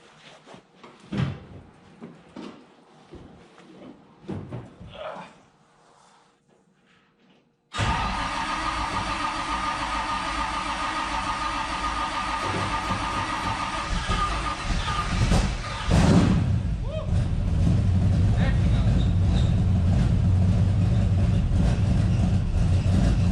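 A race car (the Tide car) is prepared in a garage. A few quiet clanks and knocks come first, then the engine suddenly fires up loud and close, idling steadily with a brief rev partway through.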